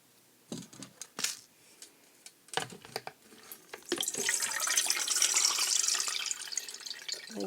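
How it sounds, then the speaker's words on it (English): Water with soaked paper pours steadily into a strainer while making seed bombs, a rushing splash that builds and holds after a few sharp clinks and taps of handling. "I am going to dump the water into the strainer"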